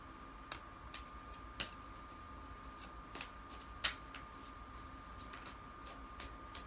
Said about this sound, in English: But let me just pull maybe a few cards here